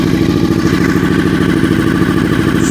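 A custom Honda VFR800 motorcycle engine runs steadily on half choke, a loud, close idle with a fast, even rhythmic thrum and a faint mechanical clatter, with no voices.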